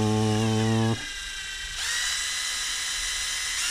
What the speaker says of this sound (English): It's a levitating drill.